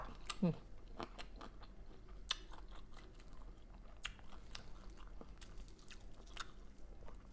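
Crispy fried small fish eaten with pickled vegetables and chopped fermented fish, giving close, faint crunching and biting bites over a low steady background hiss, with no talking.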